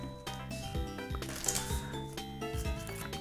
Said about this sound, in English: And I'll shuffle and then use the second Giga Magnet ability.